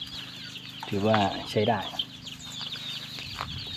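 Chickens cluck nearby in a budget welded-steel chicken coop in a few loud, throaty bursts, with softer background clucking and a voice speaking briefly in Thai.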